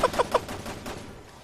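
Three quick video-game gunshots from Resident Evil 6 crack in fast succession at close range, followed by a softer lingering rumble and faint game ambience.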